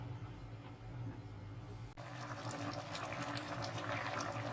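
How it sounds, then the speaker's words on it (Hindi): Rice for yakhni pulao boiling in a pot over a full flame, a steady close bubbling and rolling simmer that grows busier after a brief knock partway through, with no talk. "अब चावल जो है देखिए इसमें बबल से बढ़ रहे हैं"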